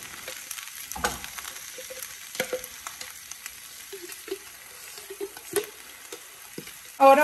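Pasta with a cup of cream being stirred in a pan on the stove, giving a soft continuous sizzle with scattered scrapes and taps of the utensil, then a louder clatter at the very end.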